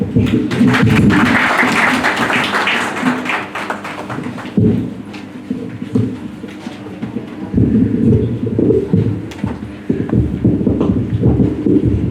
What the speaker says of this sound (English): A big clap for her.